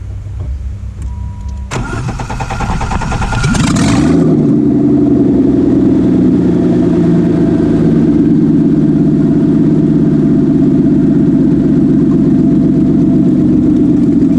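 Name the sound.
BMW E28 car engine starting and idling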